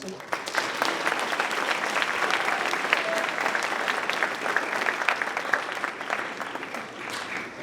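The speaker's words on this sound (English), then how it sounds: "You can clap for them." Sustained applause from a school concert audience for an intermediate and advanced guitar class, many hands clapping steadily for several seconds with a dense, even texture.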